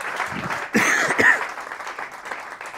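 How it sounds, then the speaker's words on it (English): A burst of audience applause swells suddenly and continues steadily, a crowd clapping together at moderate loudness. "Give her a big round of applause."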